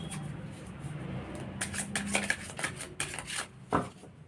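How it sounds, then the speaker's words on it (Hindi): Tarot cards being shuffled by hand, a run of crisp riffling and slapping clicks close up, building toward the end with a final sharp knock, no talk. "थोड़ा सा ऐसी शफल कर लेते हैं"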